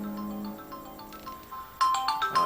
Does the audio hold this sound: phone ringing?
yes